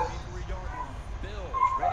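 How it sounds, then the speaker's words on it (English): Dogs yip and whimper in the background of a Madden 15 football game session, short high calls repeating under steady nearby talk. "Got dogs barking."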